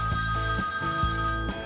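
A telephone rings with a rapid, repeated electronic ringing pattern, loud and continuous over a dense bright tone throughout.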